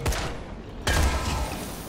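Explosion in the video game Dying Light The Following: one heavy blast bursts out near the end of the first second, a loud full-range boom that rumbles on under continuous game noise.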